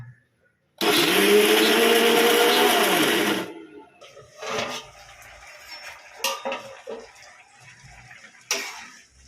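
A mixer grinder grinding poppy seeds whirs loudly for about three seconds, then stops, followed by clinks and knocks of a jar and lid being handled.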